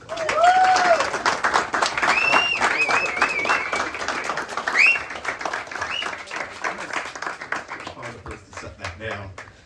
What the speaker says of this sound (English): please give me a warm hand in welcoming Bryan Tepper